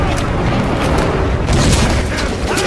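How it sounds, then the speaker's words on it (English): A double-barrel shotgun in the video game Metro 2033 Redux discharging both shells at once: loud, close booming blasts amid dense gunfire and crashing noise, continuous through the short clip without clear speech. "Shoot both shells at once."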